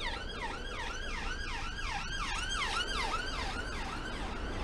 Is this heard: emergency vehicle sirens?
yes